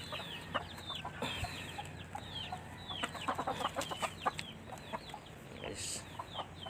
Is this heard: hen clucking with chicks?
yes